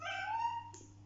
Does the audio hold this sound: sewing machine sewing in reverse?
no